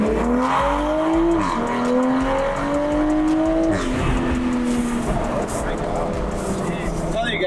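A tuned BMW 335i with an N54 engine and upgraded turbos accelerates hard through the gears, its engine note climbing in repeated rising sweeps with shift breaks, loud and close inside the cabin while a person talks.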